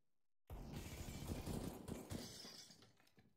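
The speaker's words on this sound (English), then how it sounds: "Flashbang out." A flashbang grenade goes off in a first-person shooter: after a moment of silence a sudden loud burst sets in, followed by a dense crackling, glassy wash that slowly fades over a few seconds.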